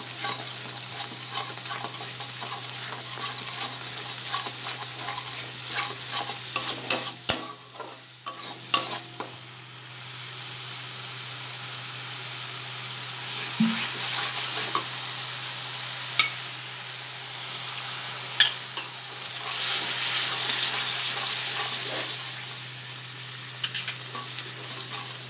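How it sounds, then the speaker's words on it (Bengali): Okra and prawns fry in a pan for masala bhendi, a steady close sizzle with repeated spatula scrapes and knocks as the mix is stirred. "ভালো করে নেড়ে চেড়ে কষিয়ে একটু জল দিয়ে দেবো"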